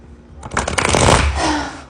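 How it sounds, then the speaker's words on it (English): Playing cards riffle-shuffled close up, a quick rising flutter of paper snapping that peaks and fades in under two seconds. "Let's shuffle a little."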